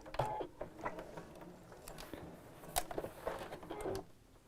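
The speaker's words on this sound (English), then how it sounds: "So I'm just sewing this to make a tube." A domestic sewing machine stitches fabric into a tube for a festive snowman decoration, giving a close, quiet mechanical patter in short bursts with clicks and brief pauses.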